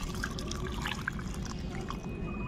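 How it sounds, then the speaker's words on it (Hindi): Water poured from above into a potted fig plant, a faint, continuous splashing and trickling with scattered drips, soft and close, with no talk over it. "अब इसमें पानी दे देंगे दोस्तों।"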